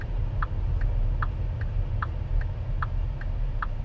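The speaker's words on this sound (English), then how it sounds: "Indicator noise is good as well." Turn indicator of a 2025 MG S5 car ticking inside the cabin, an even rhythm of soft paired clicks about twice per second over a low steady road hum.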